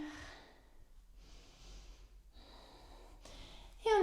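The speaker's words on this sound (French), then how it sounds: "On inspire." Deep, audible breaths at close range during a beginner yoga session at home, a few soft airy inhales separated by brief pauses, ending on a sharper intake.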